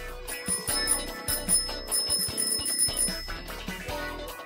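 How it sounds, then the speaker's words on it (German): A bell rings repeatedly with bright, metallic tones over busy background music, forming a steady sequence of rings that lasts the whole clip. "Ich habe diese Klingel gehört."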